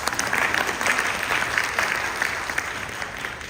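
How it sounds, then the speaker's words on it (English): Steady applause from an audience at a leadership conference and awards event in Malaysia, dense clapping at an even level throughout, with no talking over it. "that should go with a big round of applause"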